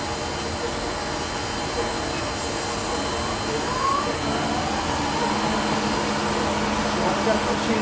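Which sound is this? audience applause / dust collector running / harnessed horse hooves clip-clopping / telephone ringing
dust collector running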